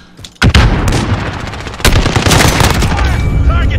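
Call of Duty Modern Warfare team deathmatch gunfire: loud bursts of rapid automatic fire begin sharply after a brief lull, with a second heavy volley midway and continuing shots, while voices call out over the shooting.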